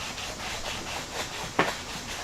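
Abrasive pad scuffing a painted steel CUCV M1008/M1009 grille guard, a steady rhythmic rubbing hiss in repeated strokes, close-up, with one sharper scrape near the end.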